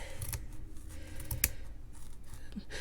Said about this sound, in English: grab my scissors, and just cut along one edge to break off all of those strands of yarn